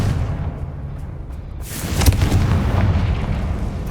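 A Confringo spell in the video game Hogwarts Legacy bursts into a deep, rumbling explosion that swells up and lingers with a low roar, without any talk over it.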